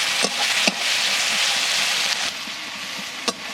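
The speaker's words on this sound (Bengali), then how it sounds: "পেঁয়াজ আমি আটখানা কুচিয়ে নিয়েছি এগুলো লাল লাল করে ভেজে নেব" Chopped onions frying in fish oil with a pinch of sugar for a pangas fish curry: a steady loud sizzle broken by a few sharp clinks of stirring.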